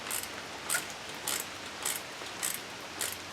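Ratchet clicking in six evenly spaced bursts as a bolt is tightened on the brake of a Lectric eBike being converted from cable disc brakes to hydraulic brakes, close and clear with no talking.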